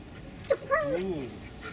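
A dog lets out a couple of short, rising and falling whimpers during obedience training while in heat, thin nasal cries that are brief and quiet against a soft background.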